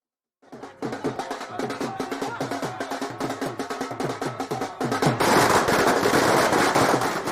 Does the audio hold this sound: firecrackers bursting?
yes